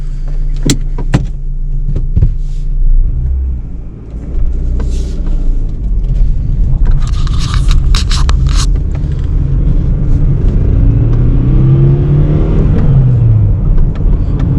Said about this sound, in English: engine sounds pretty good